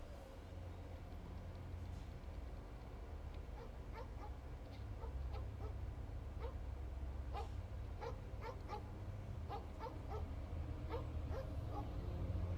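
A puppy in the Overwatch video game whimpers and yips in soft, scattered high cries over a low ambient rumble, growing more frequent toward the end, faint and somewhat distant.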